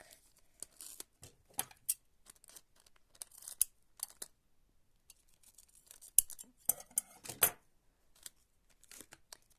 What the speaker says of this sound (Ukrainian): Ось такий кусочок скотчу і розрізаємо навпіл.